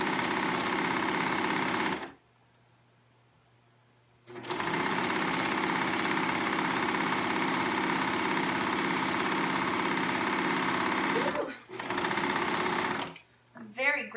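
A serger sewing machine runs in loud, steady bursts, stopping briefly between seams and starting again, with short gaps and a faint hum during the pauses.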